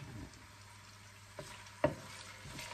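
Ginger frying in a pan of oil, a soft continuous sizzle close by with a couple of faint clinks from stirring, no talk.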